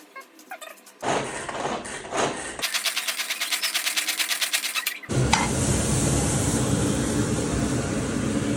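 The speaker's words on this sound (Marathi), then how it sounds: "वाटाणे तर भाजून घेतलेलेच आहे, त्याचबरोबर पनीर पण भाजून घेतोय." Green peas and paneer roasting in a pan for a healthy bhel: bursts of hiss and rhythmic rattling, then a steady, loud, continuous sizzle, close up with no talking.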